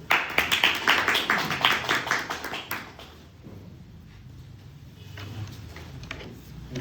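A small online Toastmasters meeting gives a short burst of clapping for the grammarian, loud for about three seconds and then dying away into quiet room noise.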